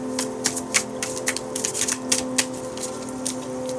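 A deck of playing cards being shuffled nearby, quick crisp riffles and flicks in irregular bursts over a steady background hum.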